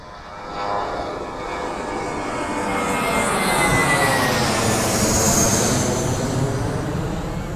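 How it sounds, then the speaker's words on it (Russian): A jet airplane taking off on Phi Phi Island, Thailand, its engine roar swelling from the start and holding loud and steady as it accelerates, with no voices over it. "Так, самолет. Походу идет на взлет."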